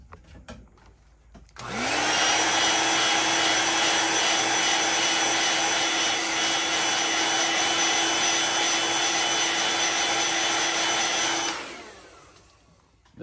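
A heat gun or hair dryer blows on freshly painted fishing lure, switching on after a short pause, then running as a loud steady whirring roar with a high whine for about ten seconds before cutting off.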